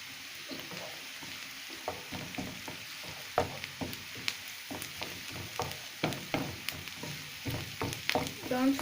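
Garlic and broccoli fry in a pan with a soft, continuous sizzle. Irregular scraping and tapping from stirring runs through it, heard fairly close but at low volume.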